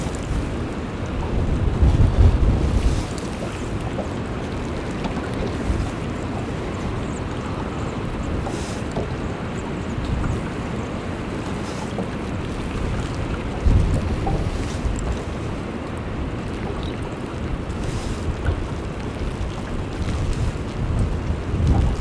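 Wind buffets a fishing boat out on the water, a continuous rough roar and rumble of gusts striking the microphone and hull, with brief louder surges and no talking.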